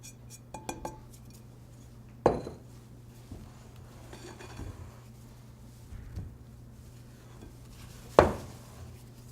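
Macaron batter being folded with a spatula in a mixing bowl: soft, quiet scraping broken by two sharp clinks against the bowl several seconds apart, with no voices.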